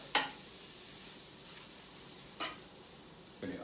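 Butter sizzling in a warm Power XL pan, with three short crackling bursts of sizzle and stirring over a steady quiet hiss.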